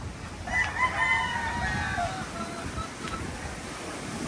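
A rooster crows once, loud and fairly close, its long wavering call rising and falling before trailing off, set among chickens and laying hens in a storm-damaged breeding pen, with steady wind or surf-like rushing noise underneath throughout.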